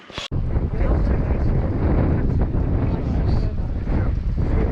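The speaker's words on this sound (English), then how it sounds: "It's windy again." Strong wind buffets the microphone in a steady, loud rumbling roar after a brief moment at the start, with gusts rising and falling throughout, on a coastal walk around Polperro and Polruan.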